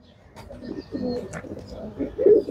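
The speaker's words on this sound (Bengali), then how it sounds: "এটাও মাদি কবুতর" A female pigeon at a pigeon tournament coos in soft, low repeated phrases, close and moderately loud, with faint background chatter.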